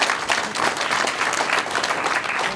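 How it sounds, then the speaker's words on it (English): Audience at a live Not So Newlywed Game show clapping for the contestants, a short burst of dense, steady applause from a crowd filling the room. "So give them a big round of applause."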